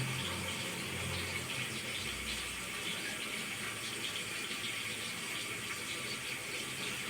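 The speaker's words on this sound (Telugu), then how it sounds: "బాగా అవి మగ్గాక ఈ చింతపండు పులుసు అనేది పోసుకోవాలన్నమాట" Tamarind juice poured into a fish curry in the pan, a steady gushing, pouring liquid sound with a continuous hiss, close and fairly loud throughout, no talk.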